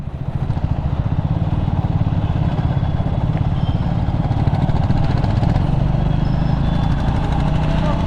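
A Triumph Scrambler 400 X motorcycle rides along a cement road with a steady, loud engine drone and rumbling road noise that holds throughout without a break.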